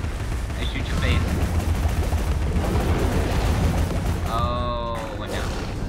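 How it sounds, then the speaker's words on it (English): Gunshots in Alice: Madness Returns rattle in a dense, continuous barrage of game combat noise, loud and steady, with a bright tonal chime near the end. "Hey, what's up? I shoot your face."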